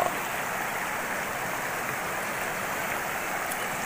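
Steady rush of flowing river water near the Watu Krapyak waterfall, a continuous broadband hiss close by with no voices.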